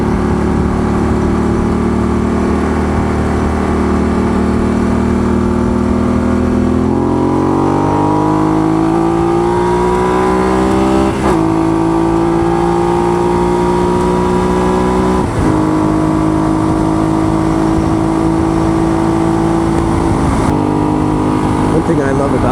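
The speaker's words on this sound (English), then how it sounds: "you can hear the exhaust note of the bike, kind of hear the RPMs" Motorcycle exhaust rumbling up close as the engine revs climb and settle between shifts, riding on a street with steady wind and road noise throughout.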